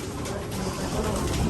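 Pigeons in a loft housing hens and young birds, giving soft, continuous cooing and rustling that stays close and steady throughout, with no talk over it.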